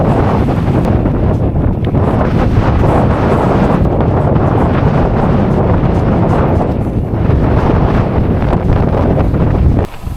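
Loud, continuous roaring wind with rain buffeting the microphone while bikepacking, a dense rushing noise throughout with no pauses.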